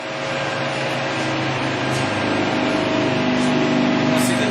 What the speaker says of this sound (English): You're going to show us the tapping.